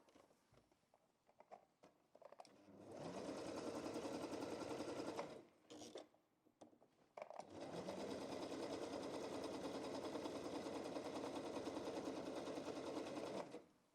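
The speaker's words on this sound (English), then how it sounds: "I'm sewing on the 4th layer of this light denim fabric" A Singer 4432 heavy duty sewing machine stitches through four layers of light denim in two long runs of fast, even needle chatter, with a short pause and faint handling sounds between them.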